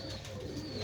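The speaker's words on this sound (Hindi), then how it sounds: "ये गोल्डन कबूतर है।" A golden pigeon coos softly in a short, steady low murmur, a single close bird call with faint background hiss.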